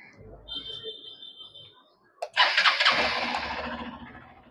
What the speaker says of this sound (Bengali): একবার আমি আপনাদের স্টার্ট করে এর হেডলাইট এবং এক্সস্টের সাউন্ড শুনিয়ে দিচ্ছি।